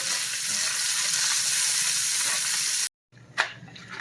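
Bacon frying in a pan gives a loud, close, constant crackling sizzle for about three seconds, then cuts out abruptly before fainter sizzling and a clatter return.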